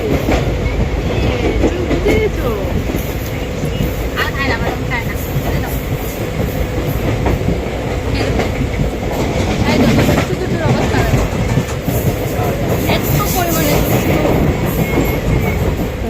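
A passenger train running, heard from inside as a loud, continuous rumble with clickety-clack from the wheels and occasional faint voices.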